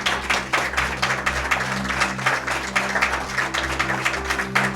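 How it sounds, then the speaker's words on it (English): Studio audience applauding at the close of a live radio play performance of The House in Cypress Canyon, a dense, steady burst of many hands clapping together, loud and sustained with no voices over it. "You may applaud."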